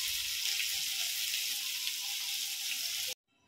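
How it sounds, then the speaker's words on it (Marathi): Pomfret fish sizzle steadily in a hot pan, a dense, even frying hiss that holds at one level for about three seconds and then cuts off abruptly into near silence. "आपले मासे छानसे असे फ्राय झालेले आहेत."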